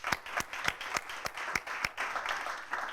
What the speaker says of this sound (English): let's give a big applause for this man over here